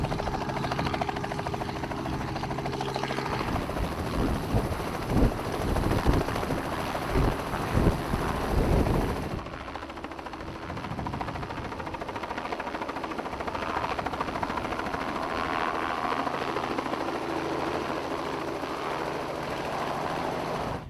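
Helicopter giving rides at a windy annual fly-in breakfast, a loud rotor throb and engine drone that rumbles heavily at first, then eases into a steadier, more distant hum amid wind noise.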